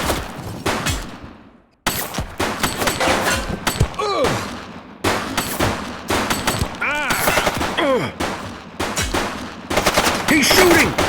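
Bursts of gunfire erupt in a police-action video game, repeated sharp shots and automatic rattles clustered in several volleys separated by brief gaps, loud and close, with shouting voices mixed between the bursts.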